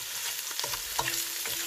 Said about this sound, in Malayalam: നമുക്ക് ഇളക്കി കൊടുക്കാം ഇച്ചിരി ഒരു ബ്രൗൺ കളർ ആയിക്കോട്ടെ